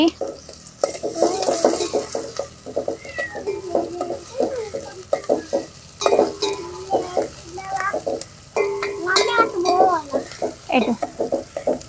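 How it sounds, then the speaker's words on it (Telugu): Ginger garlic paste stirred in a pan for an outdoor country chicken family lunch, with a busy scraping and clinking of a utensil against the pan over a faint sizzle, with birds and background activity around it. "ఇప్పుడైతే అల్లం వెల్లుల్లి ముద్ద అయితే వేసేసుకుంటున్నాం"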